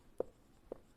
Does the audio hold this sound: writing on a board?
yes